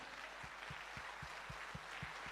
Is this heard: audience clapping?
yes